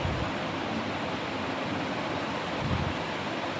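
Water splashing and running during washing, a dense, continuous rushing wash of noise, steady and close throughout.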